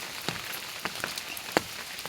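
Morning rain falling outside, a soft steady patter with a few sharper drops landing on a hard surface now and then, fairly quiet and with no voices.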